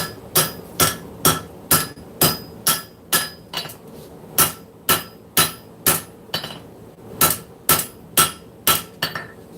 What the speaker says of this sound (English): Literally got this hammer to do finger choils and integral bolsters.